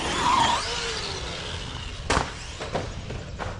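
A Traxxas Maxx Slash 6S RC truck whirs past with a rising motor whine near the start, followed by a few sharp knocks and scuffs of tires and chassis on the ground.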